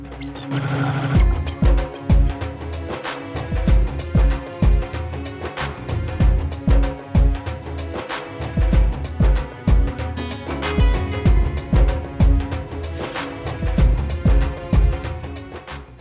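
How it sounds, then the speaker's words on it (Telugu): An industrial ironing machine presses hand-printed Kalamkari cloth in a Pedana workshop, a steady rhythmic mechanical clatter with regular thumping pulses running loud and continuous throughout. "ఈ మిషన్ లో ఐరన్ చేస్తున్నారు అన్నమాట."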